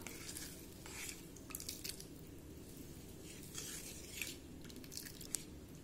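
A spoon stirs a gram flour mixture into chutney in a pot, giving soft scraping and clinking strokes at an irregular pace over a low steady cooking hum, close and quiet, with no voices.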